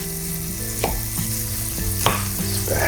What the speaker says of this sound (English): the butter sizzling over here